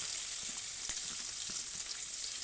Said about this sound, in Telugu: ఆయిల్ వేడెక్కినాక ఈ జీలకర్ర ఆవాలు వేసుకొని అలాగే ఈ సన్నగా తరిగిన ఉల్లిగడ్డలు కూడా వేసుకొని